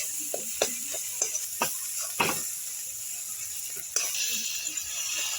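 Pasta with Maggi masala fries in a pan while being stirred, a low steady sizzle broken by repeated sharp scraping clicks of the spoon against the pan at an uneven rhythm.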